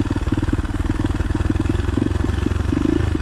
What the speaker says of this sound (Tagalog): So kailangan engine brake lang.